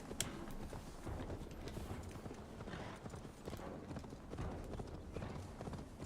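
Horse hooves clip-clopping in the Assassin's Creed Valhalla video game, a steady, fairly loud trotting rhythm under game ambience with an occasional faint voice.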